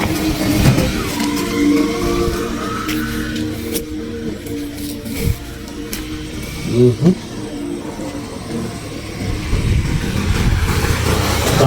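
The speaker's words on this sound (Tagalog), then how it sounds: "Dami mga sasakyan, no?" Cars pass one after another on a road beside farmland in the early afternoon, with loud engine drones swelling and fading, a revving vehicle, and a continuous rush of traffic close by.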